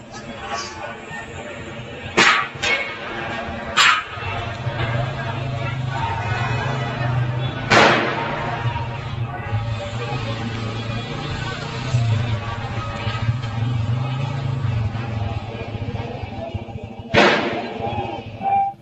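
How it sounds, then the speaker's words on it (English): Sharp cracks like distant gunshots ring out at a protest, a few isolated pops spread over time and rising above a steady murmur of crowd noise. "you start to hear at the end there some apparent gunshots"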